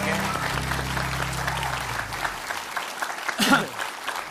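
Studio audience at an Indonesian evening talk show applauding Sule and the band, a dense, steady clapping that fills the room and carries on throughout, with some voices mixed in.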